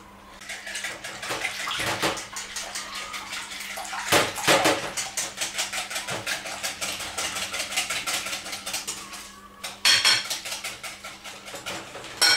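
Condensed milk and milk being mixed for a coconut flan, with repeated scraping and clinking of a utensil against a bowl in uneven strokes, growing louder at moments, close and without talk.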